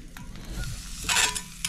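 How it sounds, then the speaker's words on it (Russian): Soft crackling sizzle of sausages on a LIBHOF Q-100 grill, a steady fizz with a brighter burst of spitting midway, close by. "Берем с вами сосисочки и будем сейчас готовить"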